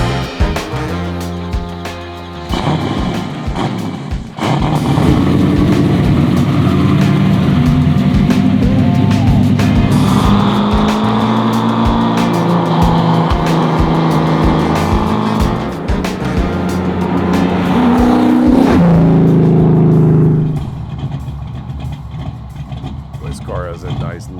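A 700-horsepower big-block Boss 9 Mercury Cougar fastback revving and pulling away, its loud throaty engine note rising and falling through gear changes, close and dominant, then easing off near the end.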